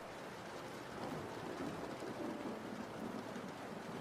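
Steady rain falls with an even, continuous hiss of drops on surfaces, fairly quiet and constant throughout, with no voices.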